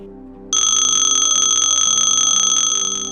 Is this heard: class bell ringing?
yes